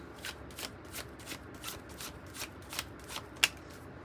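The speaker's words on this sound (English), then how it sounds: "Let's get another card here for your outcome and for this change that's coming." Tarot cards being shuffled by hand, a steady run of soft, papery riffling bursts about every third of a second, close and fairly quiet, ending in one sharper snap, with no voice over it.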